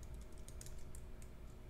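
Quiet, quick clicks of computer keyboard typing as text is entered for a business card design, light irregular taps over a faint room hum with no talking.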